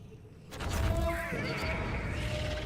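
A horse whinnies in a video game, a clear wavering neigh rising and trailing off over about a second, followed by a layered game sound and a steady background, with no talking.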